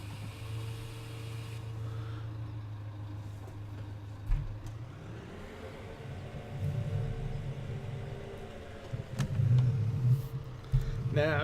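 A truck engine in Farming Simulator 17 idles, then revs up into a rising, steady drone as the vehicle pulls away, with a voice talking faintly over the motor.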